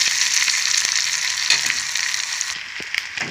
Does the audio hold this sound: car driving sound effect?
no